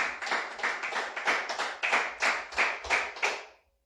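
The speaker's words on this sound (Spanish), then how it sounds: "Dele fuerte aplauso al Señor" Congregation at a church sermon clapping together in a steady, rhythmic beat, about three claps a second for several seconds, close and clear, then stopping abruptly.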